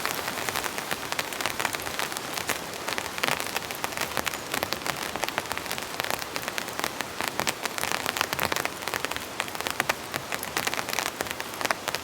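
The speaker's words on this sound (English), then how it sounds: "There's a nice pitter patter of rain coming down." Steady, dense heavy rain pattering on a taut tent shelter overhead, a continuous close hiss of drops with no voices.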